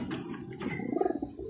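Pigeons cooing at close range, a low, throaty, burbling coo that pulses steadily through the short moment, with faint higher chirps above it.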